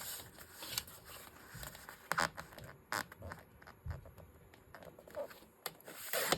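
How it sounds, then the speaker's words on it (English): An old vintage book page is trimmed by hand for paper crafts, giving close, uneven rustling and scraping strokes with brief sharper crackles of paper throughout. "let's just get this one trimmed down here, about right there"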